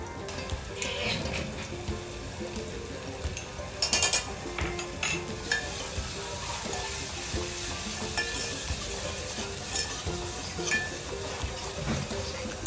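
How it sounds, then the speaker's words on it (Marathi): Spice paste roasting in oil for a traditional bhaji sputters and sizzles in a pan, with steady stirring scrapes and a few metallic clinks of a spoon, close and moderately loud. "तेल सुटत तोपर्यंत चांगली भाजून घ्यायची"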